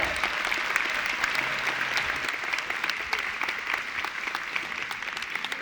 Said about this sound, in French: Les applaudissements pour l'UNIS.